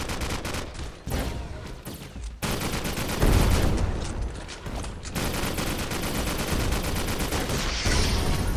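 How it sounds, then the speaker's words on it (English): Rapid rocket fire crackles almost nonstop through a Skillshot City battle royale fight, dense bursts of blasts and impacts with sharp cuts between volleys, loud and close throughout. "I love the rockets."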